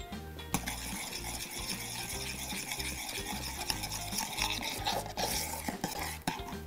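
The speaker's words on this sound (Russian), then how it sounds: "Перемешиваем." Worcestershire sauce being stirred into a blue cheese sauce for mussels, a steady scraping and clinking of utensil against a pan that runs continuously at moderate loudness, with faint sizzling underneath.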